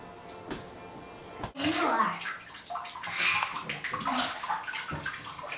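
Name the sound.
child in bathtub with water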